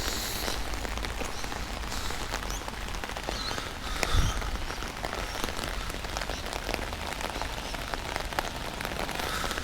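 Heavy, steady rain pours down on a park in Sydney, a dense hiss of drops hitting surfaces with a brief louder spatter near the middle.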